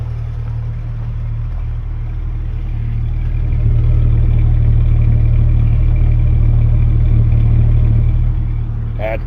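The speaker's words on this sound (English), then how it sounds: "That's the way a 4-liter should sound." The 4-liter engine of a 97 Jeep Grand Cherokee with newly finished exhaust runs at a steady idle, a low, even rumble that swells slightly midway, with a faint clatter near the end.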